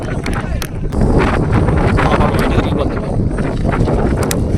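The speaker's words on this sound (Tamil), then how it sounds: "காற்று அவ்வளோ காற்று அடிக்குது இன்றைக்கி" Strong wind buffets the microphone in a steady, loud broadband roar throughout, over an outdoor Ruf and Tuf cricket tournament match in Manachanallur, with a voice faintly present beneath.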